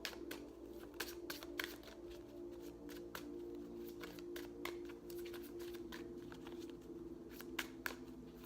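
Tarot cards are shuffled by hand for a reading, a steady run of quick papery riffles and snaps repeating close to the microphone over a low room hum, with no talking.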